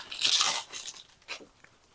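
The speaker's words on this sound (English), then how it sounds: "unwrapping this Clearview shield, as you can hear." Crinkly plastic wrapping rustles as a motorcycle windscreen is unwrapped, in a few short bursts, close by and fairly quiet, with brief pauses between the crackles.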